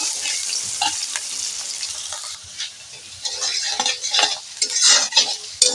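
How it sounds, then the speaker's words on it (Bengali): Finely chopped onion sizzles steadily in hot oil after a spice tempering, for a prawn and ash gourd curry, with a spoon stirring and scraping in bursts that grow busier toward the end; close and clear, no talking. "পেঁয়াজ কুচি দিয়ে দিলাম পেঁয়াজ কুচিটা এইভাবে আমি মেরে নেবো"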